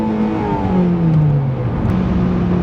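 A 2010 Honda Civic Si engine with VTEC revs toward redline, a loud, steady, close-up engine drone with gliding pitch, and no voices.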